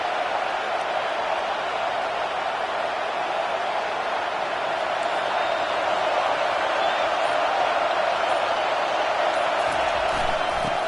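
Crowd noise in a football stadium during a college football video game, a dense, steady roar that holds at an even level for the whole stretch with no clear cheers standing out.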